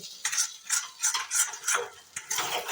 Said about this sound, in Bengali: ঠিক এভাবে আমি নাড়াচাড়া করে নেবো।